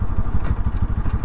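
A motorcycle engine droning steadily and loudly while a lone rider cruises an empty road near Kollegal, with a rough pulsing rumble and wind noise throughout and no voices.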